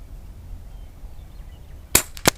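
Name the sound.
Air Venturi Alpha air rifle shot, Terminador edition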